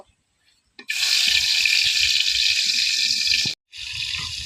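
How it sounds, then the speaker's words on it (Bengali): Snakehead fish frying in hot soybean oil in a wok, a loud steady broadband sizzle that starts abruptly, holds for about three seconds, breaks off briefly and then resumes. "আর এই মাখিয়ে রাখা মাছগুলো সব লাল লাল করে ভেজে নিব"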